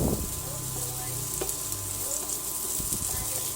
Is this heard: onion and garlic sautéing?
yes